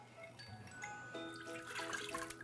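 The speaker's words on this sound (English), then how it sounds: "let's put the 1 cup of water right in the Instant Pot" One cup of water poured from a vessel into the inner pot of an Instant Pot, a faint trickling splash lasting a couple of seconds in a quiet kitchen.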